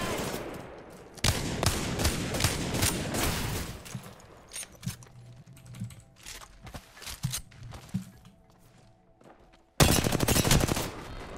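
Gunfire in an Apex Legends match, a rapid automatic burst, then scattered single shots and footsteps, ending with another loud burst, with no clear talk.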